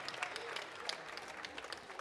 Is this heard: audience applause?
yes